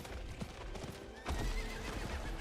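A horse in the video game Diablo IV gallops with rapid rhythmic clip-clop hoofbeats and gives a loud whinny, close and clear, with no talk over it.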